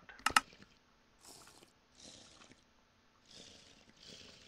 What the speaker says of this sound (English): Hear it just like drinking, just a drinking sound there.